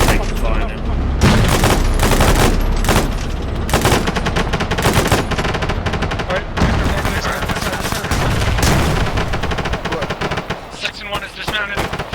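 Heavy incoming machine-gun fire and gunshot bursts in a military video game battle, loud and sustained throughout with dense rapid volleys and booming impacts, a voice talking faintly underneath at times.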